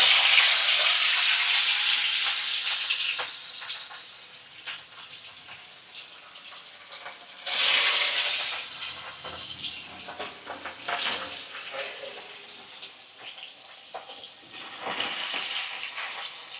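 Four pieces of katla fish fry over a high flame in hot oil in a wok, a steady close hiss and sizzle that swells in bursts as the pieces are moved, with no talking.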